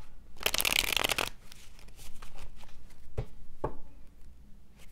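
A deck of tarot cards is shuffled in a quick riffling burst, followed by a few softer taps and slides as the cards are squared up, close and alone without speech.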